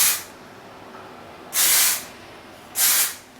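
Kenra dry shampoo sprayed onto hair in short bursts, three close, bright hissing sprays of about half a second each separated by quiet pauses.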